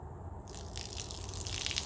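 Dirty water poured out of a Hoover Smartwash dirty-water tank, a steady broadband splashing gush starting about a third of the way in and continuing at even strength to the end.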